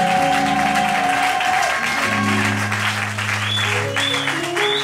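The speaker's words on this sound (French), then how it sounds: "J'aimerais que l'Église puisse acclamer Dieu fort" A church congregation applauds and cheers steadily and loudly, with sustained organ or keyboard chords playing underneath.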